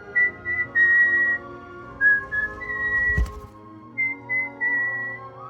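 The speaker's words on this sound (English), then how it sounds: "I would whistle the Majora's Mask theme song from the Mask Guy" A person whistles the Majora's Mask theme song, clear melodic phrases with short pauses between them, close and alone, with a brief thump partway through.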